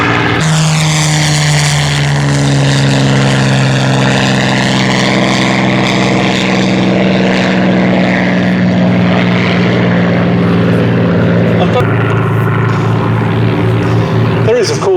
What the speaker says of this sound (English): Sorry, Spitfire, Spit 9.